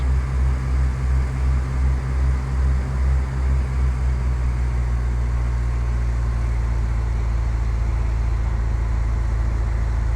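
Small single-engine airplane in Flight Simulator X with the throttle pulled back to idle: a loud, steady engine drone whose throbbing pulse settles into an even hum, alone without talk.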